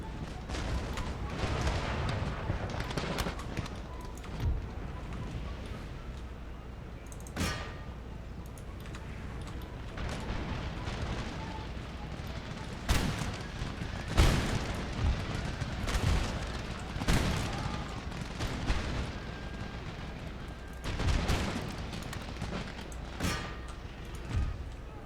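Canister shot and other artillery fire in the game Empire: Total War booms and cracks at irregular intervals, some blasts close and sharp, others duller and distant, over a constant rumbling battle din.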